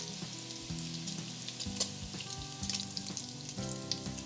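Pork fries in hot oil in a pot, giving a steady bright sizzle with small crackles and pops, close and fairly loud, with no talking.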